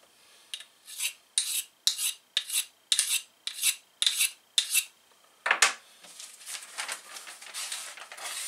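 A kitchen knife push-cutting through newspaper: about nine crisp, evenly spaced rasping slices, then a longer tearing, crumpling stretch of paper, close and alone.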